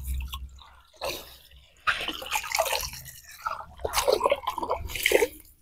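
Water is poured onto the soil of a freshly repotted wild mulberry bonsai, giving intermittent wet splashes and gurgling soaks in several bursts, close and moderately quiet, with no talking.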